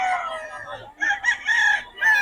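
A rooster crows loudly nearby in drawn-out calls, with short clucking bursts between them.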